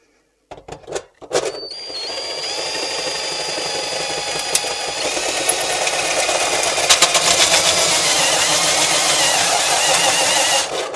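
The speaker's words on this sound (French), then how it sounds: "quand on perce avec une scie cloche ou un trépan comme ça" A hole saw bores into a kitchen sink lubricated with WD-40. After a few sharp clicks and knocks, a loud, steady high whine of cutting metal runs on with rising grind and scraping.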